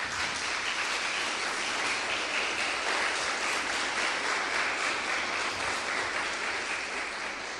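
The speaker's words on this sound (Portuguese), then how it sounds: "Dê uma salva de palmas para Jesus." A church congregation applauds steadily, a dense wash of clapping that holds at an even level throughout without pause.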